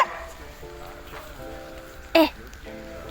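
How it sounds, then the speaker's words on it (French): A female dog playing in the background gives a short yip partway through. It sits faintly under a woman's speech at a rainy home with horses. "Désolée, un bruit de fond, il y a la chienne qui joue."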